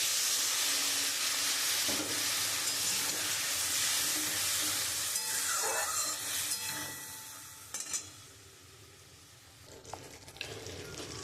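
Pointed gourd cooking in mustard paste with water added, a steady sizzle and hiss with occasional stirring scrapes close by, easing quieter toward the end.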